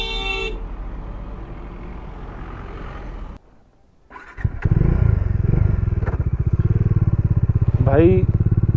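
Motorcycles ride along the high mountain road to Khardung La Pass near Leh, a steady loud engine drone with a brief drop to near quiet before the roar resumes close by, with wind rush and a faint horn-like tone.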